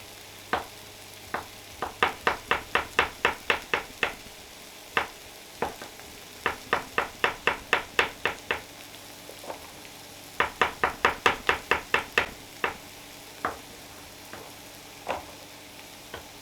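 Onions fry in a pan while being stirred, with rhythmic runs of crisp scraping strokes in quick bursts and pauses over a soft steady sizzle, close and fairly loud.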